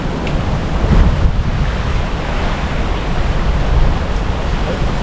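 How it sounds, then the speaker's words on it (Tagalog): Ocean waves slap against a small boat in steady broadband wash, with wind noise buffeting the microphone and a few louder surges throughout. "Mr. Gay, yung hampas ng kalon sa'yo, mataas na."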